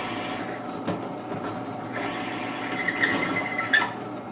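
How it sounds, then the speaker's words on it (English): Rotor broach cutting a hole through metal, a close grinding, clicking mechanical whir with small ratcheting peaks as the cutter nears breakthrough, no talk. "I don't remember how deep this rotor broach is on the inside. Sounds like it's getting close."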